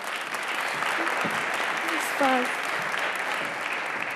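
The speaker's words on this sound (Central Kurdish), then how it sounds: "چەپڵەیەکی زۆر گەرم بۆ ناڵا" Warm applause for Nala, the host of the X Kurd Like television show, a steady crowd clapping that holds evenly for about four seconds at moderate volume, with a brief swell midway.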